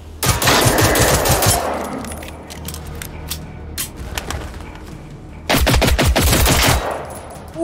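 Bursts of rapid gunfire from the video game Generation Zero, loud and close, with a dense volley at the start, scattered single shots in the middle and another sustained burst near the end.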